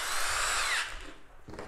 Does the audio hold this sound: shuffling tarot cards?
no